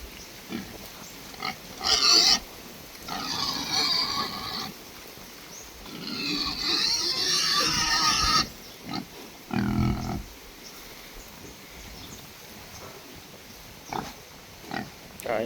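Free-range pigs on a farm grunt and snort while eating feed, close deep grunts in irregular bursts with a few longer squealing stretches and quiet gaps.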